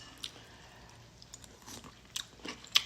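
Soft, close-up crunching bites and chewing of lightly cooked, still-warm vegetables, a few sharp crisp crunches scattered over quiet moments with no talking.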